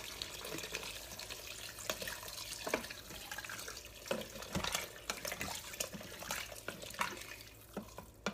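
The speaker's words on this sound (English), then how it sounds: "I'm gonna add my water." Water runs and splashes steadily into an Instant Pot for several seconds, with scattered clinks and sloshes throughout and no talking.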